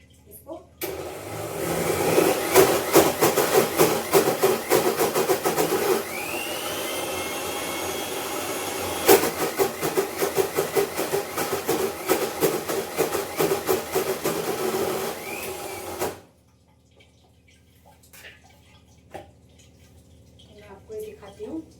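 A mixer grinder whirs loudly while grinding soaked rice into dosa batter in a home kitchen, running in two long bursts with a brief pause between, then stopping abruptly into quiet with faint clatter.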